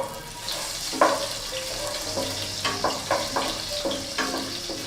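Chopped garlic and ginger drop into hot oil and fry with a steady, moderate sizzle, broken by several light clinks and scrapes of a spoon stirring in the pan.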